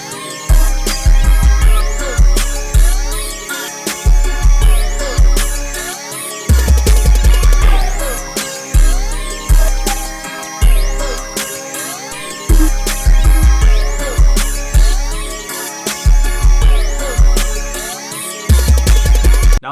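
A loud crank beat built in FL Studio pairs booming, sliding 808 bass hits with a rapid hi-hat pattern with randomized velocities and bright synth melodies, looping in repeating bars with no talking.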